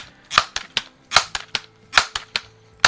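A first-variant Crosman 760 air rifle fires copper-plated BBs: a handful of sharp, dry cracks and clicks arrive in quick irregular succession, each followed by faint mechanical rattles, with no voices.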